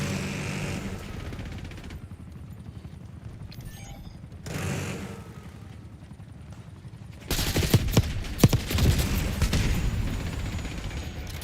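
Gunfire in Call of Duty Black Ops 6, including sniper shots: a quieter stretch of distant rattling, then a loud burst of sharp, rapid shots and impacts in the last few seconds.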